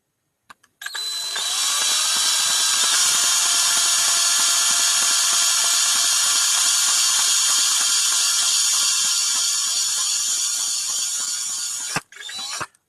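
A power drill whirs slowly and steadily for about eleven seconds, close and loud with a faint ratcheting texture, then stops with a click and a brief final burst.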